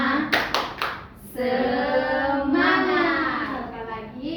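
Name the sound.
rhythmic 'tepuk semangat' hand-clapping ice breaker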